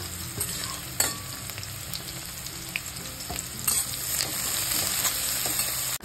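Asafoetida hits hot oil for a tempering, making a loud, close, continuous sizzle with crackling bursts and stirring and no voices.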